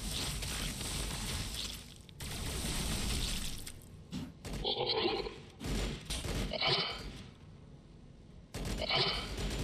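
Gunfire in the strategy video game Warhammer 40000 Battlesector, in a battle involving Necrons: repeated bursts of rapid shots and volleys come in several loud clusters separated by short lulls.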